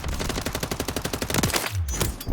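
Rapid automatic fire from the MCW rifle on the Call of Duty Warzone firing range, a loud, steady stream of evenly spaced shots for about two seconds, then a brief pause and a final burst.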